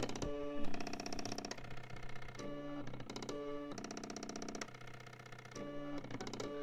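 A Colemeter mini laser engraving machine runs with rhythmic, buzzing stepper-motor whirs in repeating bursts and short pauses. The sound is steady and fairly quiet, heard close with no talking.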